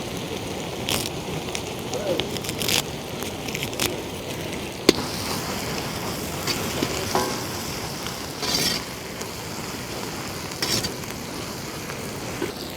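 Onions and curry leaves fry in a pan for a chicken chukka, giving a continuous crackling sizzle with scattered sharp pops and occasional stirring scrapes, close and steady throughout.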